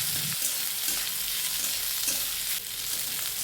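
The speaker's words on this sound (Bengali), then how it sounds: "দিয়ে দেওয়ার পর পেঁয়াজ আর রসুন খুব ভালোভাবে ভেজে নিতে হবে" Onion and crushed garlic cloves frying in a pan for a pointed gourd mash, a steady close sizzle with occasional scraping stirs throughout.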